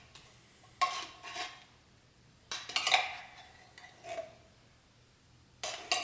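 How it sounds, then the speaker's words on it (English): Cream of mushroom soup scraped from a can into a pan at a camp kitchen, a few separate bursts of metallic scraping and clinking spread out, moderately close with quiet gaps between. "I'm gonna quick get this cream of mushroom soup into the pan here"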